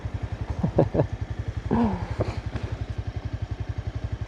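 Motorcycle on a forest ride thumping along at a steady idle-like pulse, its rapid even beats loud and close, with brief clattering knocks and a short burst of revving partway through.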